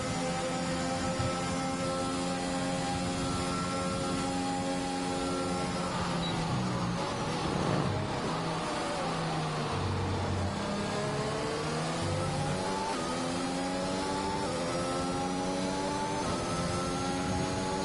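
A racing car engine in a Grand Prix video game drones steadily through the lap, with harmonics rising and falling as it shifts and accelerates down the straight, loud and continuous with no talk.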